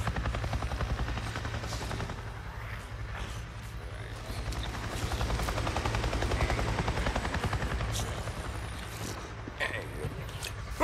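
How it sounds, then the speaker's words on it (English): A helicopter in the Days Gone video game thumps steadily overhead, its low rotor pulse loud and continuous throughout, with faint game effects layered above. "I just saw a goddamn chopper!"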